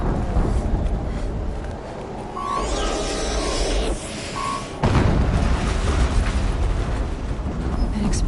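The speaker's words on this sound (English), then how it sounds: "An explosion." Explosions in the video game Horizon Zero Dawn: heavy rumbling booms swell and fade over several seconds, with a fresh loud blast midway, mixed with game effects and faint voices.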